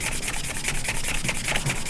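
Close, steady back-and-forth scratching of sandpaper on a homemade lightsaber, brisk regular strokes with no voices.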